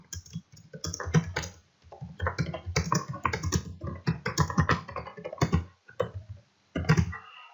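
Bursts of typing on a computer keyboard while a comment is written into an online classroom post, with close, fast clicking keystrokes in uneven runs separated by brief pauses, and no talking.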